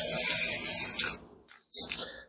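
Aerosol spray paint hisses onto a surface in a long sustained burst, stops, gives a short puff, then bursts again briefly, close and loud.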